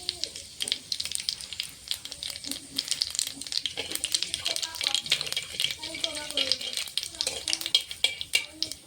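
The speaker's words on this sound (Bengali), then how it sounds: "তেলটা গরম হয়ে গেছে। এখন আমি ফোড়নে কালো জিরে দেবো।" Black cumin seeds sizzle and crackle in hot mustard oil, giving a soft, steady frying hiss broken by small pops and stirring scrapes, while a person talks over it.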